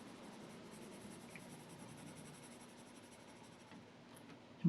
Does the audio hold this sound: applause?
no